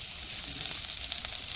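Steady hiss and crackle of onions frying in hot oil, close and continuous, with small pops scattered through.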